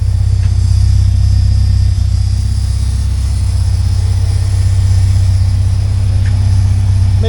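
A 1979 Porsche 924's engine runs at a steady, loud idle, a deep low rumble with constant hum and no speech over it.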